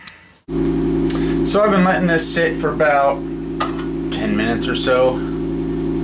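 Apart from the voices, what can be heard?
electric fan running in the background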